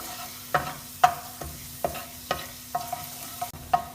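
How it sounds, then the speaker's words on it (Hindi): Chopped garlic sautés in oil in a pan, a soft steady sizzle broken by regular scraping stirs of a spoon, close and fairly quiet, with no talking. "1 टीस्पून चॉप्ड गार्लिक, लहसुन, और हल्का सा करेंगे इसको हम ऑयल के अंदर साथे"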